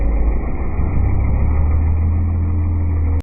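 A vehicle engine idles close by with a loud, steady low rumble and a constant hum that continues unbroken until it cuts off sharply at the end.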